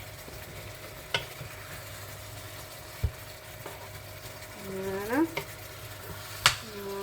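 Chicken in a honey tomato sauce is stirred in a pot for a quick tagine. A soft simmering fry runs underneath, with occasional knocks and scraping sweeps of the spoon, and a brief spoken word.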